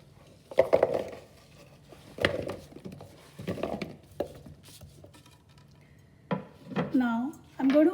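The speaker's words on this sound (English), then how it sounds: "So now let's add these vegetables into this bowl." Chunky vegetables drop into a bowl with a handful of scattered clinks and soft thuds spread across several seconds, while a voice talks faintly in the background.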